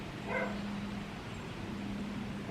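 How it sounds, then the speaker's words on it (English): A neighbor's dog leashed outdoors gives a quick burst of yips or barks early on, fairly faint against steady background hum, then only a low droning tone continues. "Our neighbor dog is out here."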